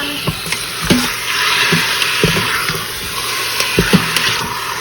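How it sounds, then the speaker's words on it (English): Meat browning in an Instant Pot on its sauté setting gives a steady close sizzle, broken by several sharp clicks and scrapes of stirring. "I'm just gonna saute the meat, probably for about 10 minutes"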